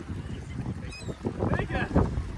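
Seagulls call in short honking cries at an outdoor cookout, close by, while people talk over the squawks.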